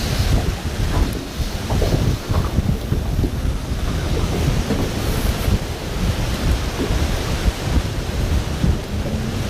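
Strong wind buffets a fishing boat on open water, a continuous loud roar with gusty rumbling and microphone buffeting that runs without pause and with no talking.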